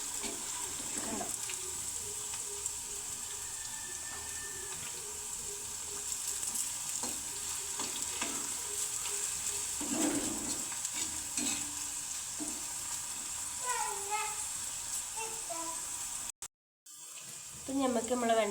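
Okra frying in a pan of oil, a steady soft sizzle with occasional stirring and scraping, a brief dropout near the end, and a person speaking now and then.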